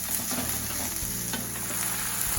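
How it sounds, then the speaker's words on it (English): Kimchi sizzling steadily as it heats in a hot pan, a continuous close frying hiss with no talking. "I'll bring the kimchi up to heat"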